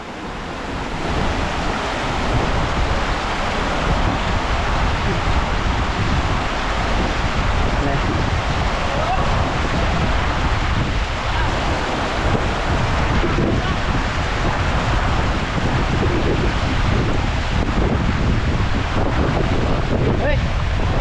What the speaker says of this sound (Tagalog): Malalim. Malakas ang agos, no?